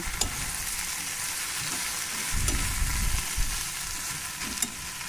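Fried mourala fish tossed together with vegetables in a hot pan: a continuous close sizzle with a few louder scrapes and thumps as the mix is turned, no voices.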